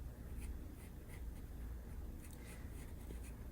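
Pencil strokes drawing hair on drawing paper, a soft steady scratchy rustle of graphite with faint repeated flicks, close and quiet with no talking.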